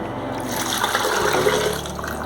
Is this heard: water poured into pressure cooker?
yes